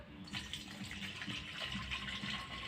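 Water pours steadily into a spray bottle for a few seconds, a continuous close splashing gush with no talking over it.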